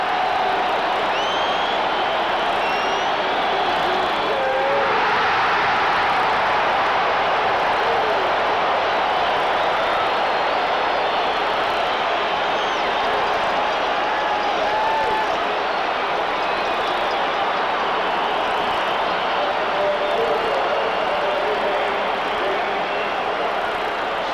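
A baseball stadium crowd at the 1982 World Series, Game 4, St. Louis at Milwaukee, roars and cheers in a dense, steady wash of noise that stays loud and unbroken for the whole stretch.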